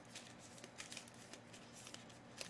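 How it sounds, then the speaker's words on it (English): Panini Diamond Kings trading cards riffle in a Vegas-style shuffle, a soft, quiet flutter of cards with small clicks spaced through a couple of seconds. "Shuffle, doing the Vegas shuffle."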